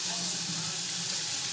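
Onion and spices, including mustard seed and black peppercorns, sizzle steadily while sautéing in bacon fat in a pot, giving a continuous, close, even frying hiss throughout.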